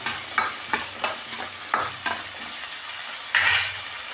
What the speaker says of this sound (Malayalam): നമുക്കിതൊന്ന് വാട്ടിയെടുക്കാം ഉള്ളി നല്ലോണം വാടട്ടെ